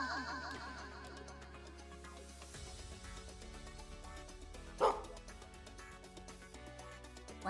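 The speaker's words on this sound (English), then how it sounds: "Why are you barking?" A dog gives a single sharp bark partway through, standing out over a steady bed of musical, tonal background sound.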